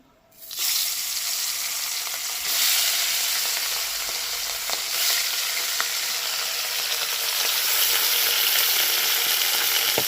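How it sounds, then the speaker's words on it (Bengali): Parshe fish slipped one by one into hot oil, setting off a sudden loud, steady sizzle that builds after a quiet start and keeps crackling close by, with occasional small pops. "তেলটা গরম হয়ে গেছে এবার মাছগুলো আমি একে একে দিয়ে দিচ্ছি"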